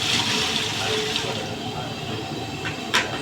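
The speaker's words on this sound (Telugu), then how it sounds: "ఒక 4 లీటర్స్ వాటర్ పోసుకోవాలి" Four litres of water pour steadily into a cooking pot, a continuous rushing splash filling the whole moment at moderate loudness.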